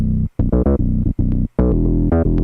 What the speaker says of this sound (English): Then your verse bass sounds like this.